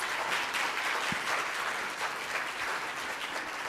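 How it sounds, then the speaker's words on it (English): An audience at a university competition final gives a round of applause for a competing team, a dense, steady patter of many hands that fills the hall evenly throughout. "If we could give them a round of applause"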